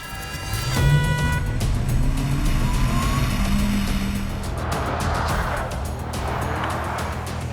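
A race car on a fast hot lap, its engine loud and close, with a quick rising shift at the start, then a sustained roar sweeping through gears with tire noise, no talking.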